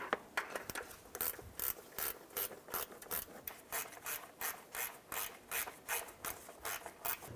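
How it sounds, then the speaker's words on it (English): A hand ratchet snugs down 10mm bolts on the splash guard of a 2001-2007 Ford Escape, giving close, rapid bursts of pawl clicking in a steady back-and-forth rhythm with short pauses between strokes. "And once we have them started, we can go ahead and snug those down."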